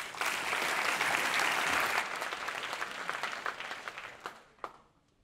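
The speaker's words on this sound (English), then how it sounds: "So give him a big hand, John Lilic." Audience applause at a blockchain conference breaks out as a speaker is welcomed: a dense burst of clapping from a room full of people that thins to scattered claps and fades within a few seconds.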